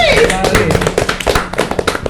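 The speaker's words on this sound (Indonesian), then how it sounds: "Tepuk tangan dulu guys" Several people clapping in a casual indoor gathering with a local futsal community, uneven sharp hand claps with a raised voice calling out at the start.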